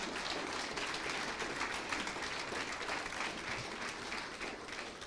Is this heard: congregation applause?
yes